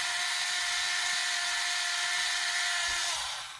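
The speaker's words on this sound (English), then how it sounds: "And now I'm going to use my handy drill from Tamiya." A Tamiya hand drill bores through a model pod part, a steady high whirring grind close up that runs unbroken for several seconds and then trails off as the bit breaks through.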